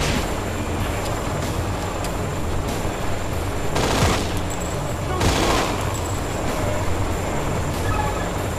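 Gunfire in the video game Infernal, loud continuous rattling bursts of automatic shots with two sharper blasts near the middle, under busy game noise.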